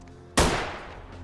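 A single loud gunshot in Vampire: The Masquerade - Bloodlines, a sharp close blast with a ringing decay that tails off over about a second.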